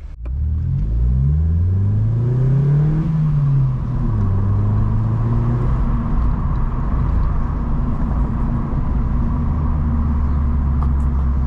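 A Vauxhall Corsa E with a loud aftermarket exhaust revs up and settles into a steady, loud idle rumble close by, with a throaty exhaust note and no one talking.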